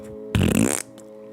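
A single short, loud fart, about half a second, bursting out over a quiet background hum.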